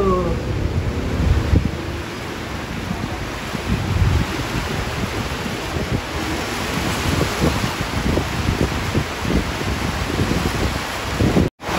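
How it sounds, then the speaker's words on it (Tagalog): A dense, steady roar of heavy rain with gusty wind noise, constant and loud for the whole stretch, no voices. "inabutan ng malakas na ulan"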